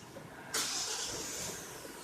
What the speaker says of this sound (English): So let me try starting the vehicle.